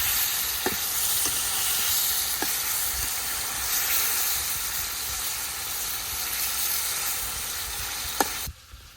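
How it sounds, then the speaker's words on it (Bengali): Fish sizzles loudly in spice paste in a pan, a continuous hiss and crackle with occasional sharp stirring clicks, then cuts off abruptly near the end. "মশলার মাঝে মাছটাকে ভালোভাবে কষিয়ে নিই"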